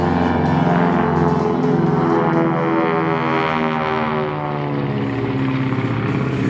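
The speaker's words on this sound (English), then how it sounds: "That was just someone's hobby plane flying over from the Henderson airport." A small hobby propeller plane passes overhead after taking off from Henderson airport near an outdoor pickleball venue, its loud, droning engine roar filling the whole stretch steadily, with no voices.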